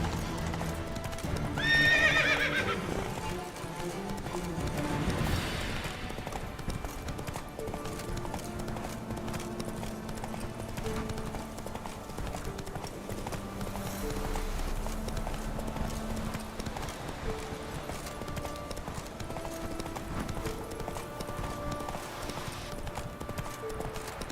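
Roach, the horse in The Witcher 3, trots with steady rhythmic hoofbeats, close and clear, over game music. A whinny comes early, then the hooves keep a regular clip-clop throughout.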